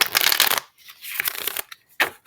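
Tarot oracle cards are shuffled in several quick, close, crisp riffling bursts separated by short pauses.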